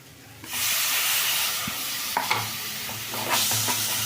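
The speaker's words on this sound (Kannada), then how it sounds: "ಎಣ್ಣೆನಲ್ಲಿ ಚೆಂದಾಗಿ ಫ್ರೈ ಆಗಲಿ" Tomato and chili-powder masala frying in oil for a vegetable gravy, with a loud, close, continuous sizzle that flares up as the tomato goes in, and a few stirring scrapes, no talking.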